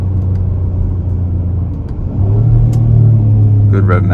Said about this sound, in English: Good rev match downshifts.